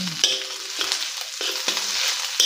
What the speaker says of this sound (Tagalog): Ito dito na natin igigisa sa sarili niyang mantika